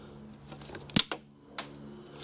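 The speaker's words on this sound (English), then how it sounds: "I'm just going to trim this off." A couple of sharp snips cut excess glued rubber grommet material, quiet close clicks in a mostly still space.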